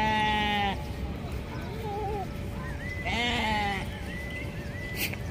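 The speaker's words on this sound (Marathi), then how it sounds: "इकडे मेंढी बघा." Sheep bleating nearby outdoors, several distinct quavering calls, two loud ones at the start and middle with fainter bleats between, over a steady background hum.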